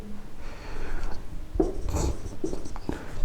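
Chalk or marker writing on a board during a class 12 differential equations maths lecture, quiet scratchy strokes and taps in short bursts, close and soft, with no talking.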